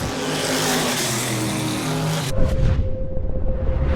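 Race car engines roar loudly at close range on an oval track, a dense broadband drone that shifts midway into a rougher, pulsing rumble as cars pass by.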